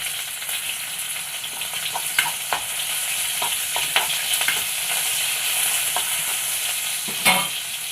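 Vegetables for a Kerala-style vazhuthananga chammanthi sauté in a hot pan, a constant close sizzle broken by scraping spatula strokes as they are stirred, with no voices.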